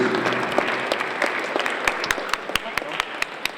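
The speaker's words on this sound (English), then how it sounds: "Let's give Elisa Williams another round of applause, please" Applause from an assembly audience at a school perfect attendance ceremony, a steady wash of clapping with a few sharper nearby claps standing out, over a faint murmur of voices.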